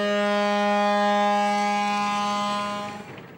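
The Bou El Mogdad riverboat sounds its siren on departure, one long, loud, steady horn blast with a rich harmonic tone, held for about three seconds before cutting off and leaving a faint echo.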